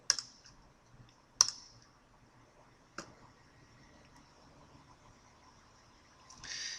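Sharp mouse clicks in Revit software, three distinct taps spaced a second or more apart over a quiet background, with a brief burst of clicking at the very end.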